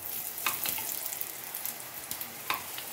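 Ghee sizzles and crackles steadily on a muli (radish) paratha in a hot pan, with a few sharper pops rising out of the continuous frying hiss, close and moderately loud.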